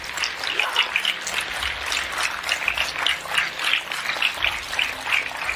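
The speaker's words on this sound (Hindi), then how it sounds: "तो हो जाए एक जोरदार तालियां आपके सेहत के नाम पे" A crowd at a health talk breaks into applause, a dense, rustling patter of many hands that rises and falls in loose waves for several seconds, steady and moderately loud with no speech.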